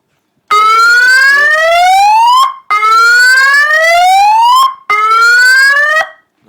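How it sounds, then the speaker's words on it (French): A loud electronic siren sounds from a booby-trapped briefcase prop once its timer is stopped, in three long rising whoops, each climbing in pitch for about two seconds before cutting off abruptly, with no other sound. "Donc le timer a bien été arrêté et la sirène retentit."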